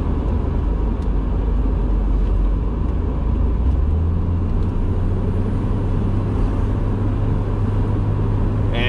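A 1977 BMW 633 CSi with a six-cylinder engine and automatic gearbox drives along, its steady low engine and road rumble continuous and fairly loud throughout, with no talking.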